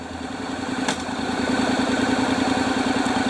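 A Honda DCT motorcycle idles in drive while up on its stand, a steady close mid-pitched engine drone that builds slightly and then holds, with one brief clatter early on.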